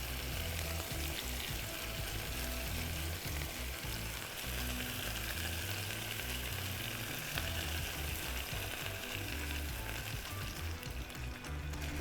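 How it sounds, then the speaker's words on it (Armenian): Vegetables for imam bayildi fry steadily in a pan, a constant crackling sizzle that fills the whole stretch with no voices. "ինքը համով պետքա տապակվի, եփվի"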